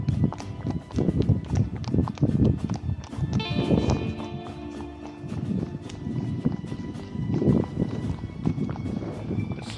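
Irregular hoof clops from horses walking through town near Granada, Spain, repeated thuds close by over a steady outdoor background, with a brief higher tonal sound midway.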